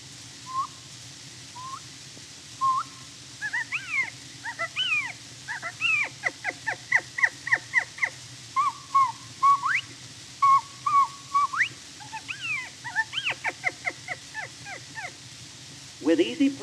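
A human voice imitates the call of the California mountain quail, giving a long series of clear whistled notes, some sliding and some quickly repeated, sung alone and close over faint background hiss on an early recording.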